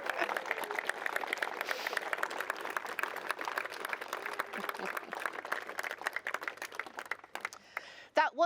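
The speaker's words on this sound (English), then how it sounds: "Can we have a huge round of applause," Wedding guests give a newly married couple a long round of steady applause, dense and continuous before dying away, with a brief voice near the end.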